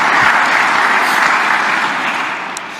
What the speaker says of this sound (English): You are allowed to clap.